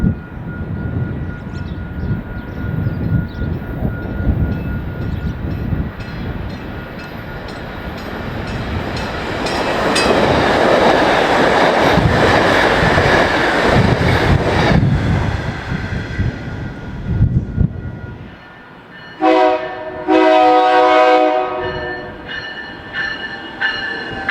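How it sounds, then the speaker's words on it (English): A South Shore Line passenger train in northwest Indiana races past below an elevated vantage point, its loud rumbling roar swelling and fading, with brief tonal squeals near the end. "We get an elevated view of Train 307 racing south behind Nick number 1."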